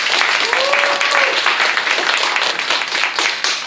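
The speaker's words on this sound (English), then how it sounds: "Give me a little small applause." Brief round of audience applause at a workshop on healthy, future-proof neighborhoods, close and fairly loud clapping from a small group, with a faint tonal squeak partway through and the clapping thinning toward the end.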